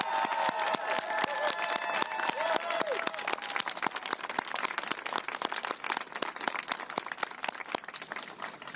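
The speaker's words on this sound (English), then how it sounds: "Let us applaud you." A rally crowd applauds healthcare providers, with dense, sustained clapping from many hands and a few cheers, while a voice briefly speaks near the start.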